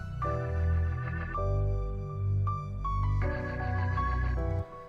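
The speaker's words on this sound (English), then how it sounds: "I just put the same chord on an organ" Sustained organ chords swell and shift with a wavering, effected tone, a few held changes ringing steadily with no voices.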